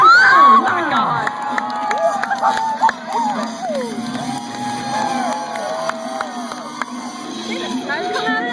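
Motocross crowd at Myrtle Beach Speedway cheering and shouting steadily throughout, with whoops and higher children's yells rising out of a dense roar, loud and close, with voices talking over it.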